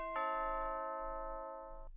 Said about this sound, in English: So that's the chimes.